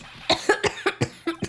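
Several short, sharp coughs from a character in the Phoenix Wright: Ace Attorney − Trials and Tribulations video game, about six in quick uneven succession, close and clear with no talk over them.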